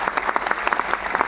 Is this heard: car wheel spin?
no